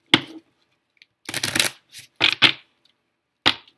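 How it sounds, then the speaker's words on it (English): Tarot cards being shuffled by hand in a quiet room, a few separate bursts of crisp riffling and slapping with short pauses between them, close and fairly loud. "I'm actually going to give these another good shuffle."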